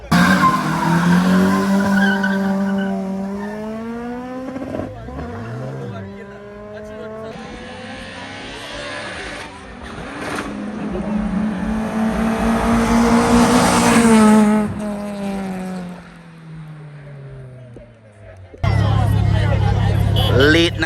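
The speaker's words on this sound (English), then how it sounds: "Late night racing at its best." Engines of a turbocharged Honda D-series car and a BMW 750Li roar and rise through the gears during a late-night street race, loud and sustained with pitch sweeping up and down and tires squealing, while voices talk over parts of it.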